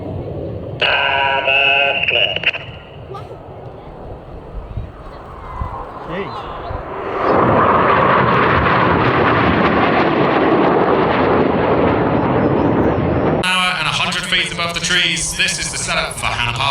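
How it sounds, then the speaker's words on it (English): Red Arrows jets roar past in a flying display at the Midlands Air Festival, a loud broad rush that swells midway and holds steady, with a commentator talking over it. "If you look out to the front, you should see the 4 aircraft."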